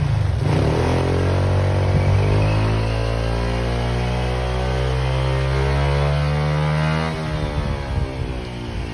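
Honda Click 160cc scooter engine idling with a steady pulsing hum, then revving as the pitch climbs and falls in a smooth sweep, loud and close, with no talk.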